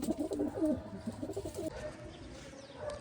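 Domestic pigeons kept as a hobby at a home loft coo in low, throaty rolling phrases, fairly close and alone for the first half, then fading into quieter background ambience.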